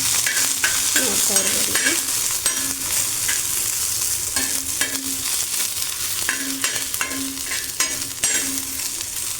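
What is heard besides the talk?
food frying in oil in a pan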